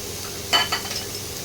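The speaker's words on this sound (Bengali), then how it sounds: "পেঁয়াজটা না ভাজা হলে হবে না" Onions frying in a pan are stirred, giving one brief metallic scrape and a softer follow-up clink over a low, steady background hiss.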